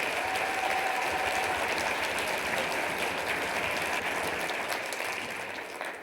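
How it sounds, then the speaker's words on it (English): A conference audience at a 2024 Shark Tank pitch session claps together, loud and sustained for about six seconds before thinning out near the end, with no speech over it. "Can we get a round of applause for all of them?"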